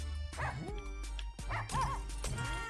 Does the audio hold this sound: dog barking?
yes